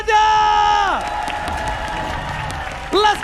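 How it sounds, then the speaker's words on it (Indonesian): An esports arena crowd at an MPL Season 11 match between Rebellion and RRQ applauds and cheers in a continuous roar, while amplified voices call out over it at the start and end. "mana tepuk tangannya?"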